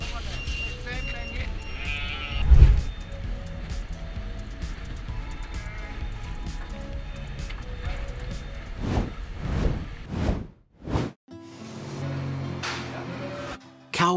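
Sheep bleat during livestock transport as part of an export operation, with sounds carrying over a steady background and a louder burst early on, followed by further sheep calls and whooshing passes; animal noise dominates.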